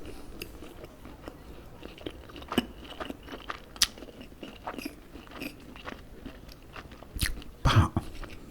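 Chicken chunks and fries are bitten and chewed close to the mic, with wet mastication, soft crunches and a few louder crisp bites spaced irregularly, no talking.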